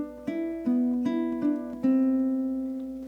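Ukulele playing the next bar of a song: several plucked notes and strums, each decaying quickly, clear and close with no voice.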